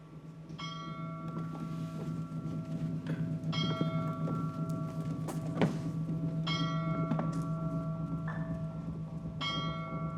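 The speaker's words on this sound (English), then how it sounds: "It's those silly bells again." Nearby bells ring in repeated clusters of bright, sustained tones that recur every few seconds over a steady low hum, with no talking.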